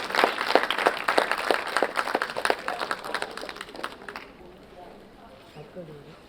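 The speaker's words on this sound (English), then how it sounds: "Each and every one of you present in the audience, if you can applaud one more time" Audience applause at a conference session on community impact stories, brisk clapping from a seated crowd that swells, then tapers off after about four seconds into a quiet room with a faint voice.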